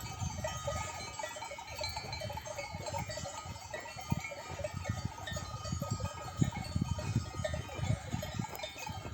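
Sheep bleat intermittently across an outdoor field, with a few louder calls standing out against a steady background of animal noise and rustling.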